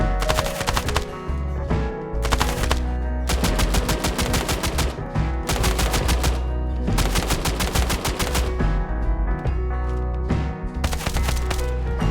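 Rapid bursts of automatic gunfire from weapons in the training mode of the mobile shooter game Standoff 2, with dense, loud volleys separated by short gaps.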